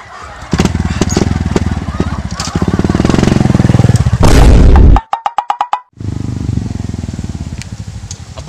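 A motorcycle-tricycle engine runs loud and close with a steady throttled drone, rising to a roar before a brief burst of sputtering pulses, then settling back to a steady run; people talk over it.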